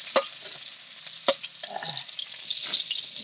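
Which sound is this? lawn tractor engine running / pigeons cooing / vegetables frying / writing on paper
vegetables frying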